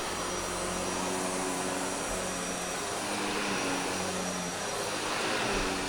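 A Shark Navigator Lift-Away upright vacuum cleaner with PowerFins HairPro runs steadily and loudly close by, giving a continuous broadband motor whine and airflow roar with no pauses.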